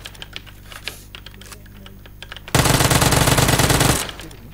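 Automatic gunfire in PUBG or Apex Legends, a loud unbroken burst of rapid shots lasting about a second and a half. Keyboard tapping runs before it.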